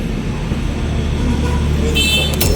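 A brief car horn toot near the end over steady traffic rumble and road noise, fairly loud and outdoors on a street in Marawi, Philippines.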